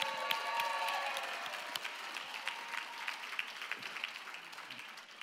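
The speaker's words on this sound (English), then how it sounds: "can we give the newcomers a round of applause?" Steady applause from a large audience, a dense wash of clapping that holds level and slowly thins out over several seconds.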